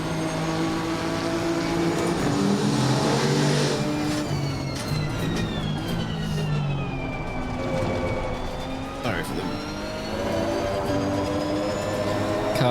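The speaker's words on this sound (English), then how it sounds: "Cars outside, as I said, windows are open, so bit of traffic noise." Street traffic drifts in through open windows, with cars passing and a siren wailing in the distance, forming a steady background wash; a brief voice speaks over it.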